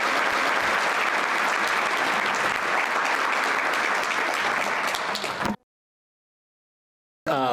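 An audience at a New Mexico workforce conference claps steadily and loudly to welcome Speaker Javier Martinez. The dense applause goes on for several seconds, then cuts off abruptly into silence.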